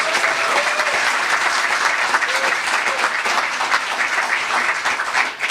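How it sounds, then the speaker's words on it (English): Sustained applause from an audience at the FisherPoets Gathering 2019 open mic, a steady dense wash of clapping for the whole team with no pause. "How about a round of applause for the whole team?"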